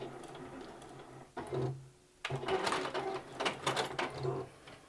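A sewing machine backstitches a short quilt seam, quiet mechanical whirring and ticking in two bursts separated by a brief pause, close and faint.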